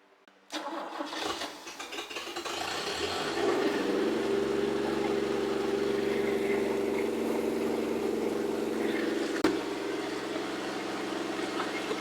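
An engine with leaking carburetors cranks and catches, then settles into a steady, loud, close idle with a low even drone and a brief blip near the end.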